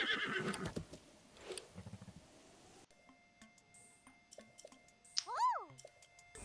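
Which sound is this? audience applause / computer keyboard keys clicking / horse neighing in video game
horse neighing in video game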